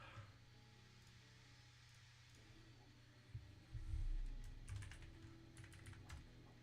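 Quiet clicking of a computer keyboard at a desk, scattered keystrokes in short bursts over a low steady background hum, with a soft thump partway through.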